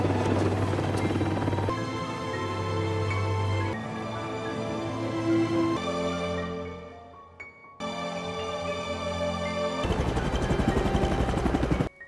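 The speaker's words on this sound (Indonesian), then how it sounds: "Akhirnya si pilot pun dapat melihat tempat pendaratan dan mulai mendaratkan helikopternya." A helicopter coming in to land in a film scene gives a steady loud rotor and engine drone across the clip, with shifts in tone and a brief dip near the middle.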